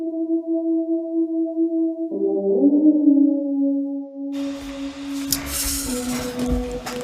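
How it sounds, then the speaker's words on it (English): A synth lead line panned left and right enters over sustained tones, joining a fuller, busier mix that swells in midway with bright, noisy texture; steady and fairly loud, no voices. "And then I just added a lead line"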